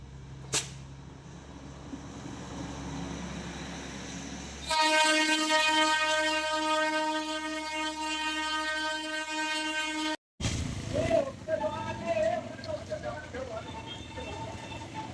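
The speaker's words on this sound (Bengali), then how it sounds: "এটাই হচ্ছে দার্জিলিংয়ের বিখ্যাত টয় ট্রেন। খুব বেশি বড় না, দুটো বগি আর একটা ইঞ্জিন।" The small Darjeeling toy train, an engine pulling two carriages on a rainy day, sounds a long, loud, steady horn blast for several seconds, followed by rumbling and clattering rail noise.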